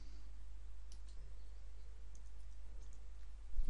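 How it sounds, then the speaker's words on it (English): A computer mouse gives a few faint, sparse clicks over a low steady hum while working in Microsoft Access 2013, with no talking. "if I right click on the tab, table 1 in this case, and click on save"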